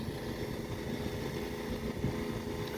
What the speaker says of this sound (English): I got the gas pump going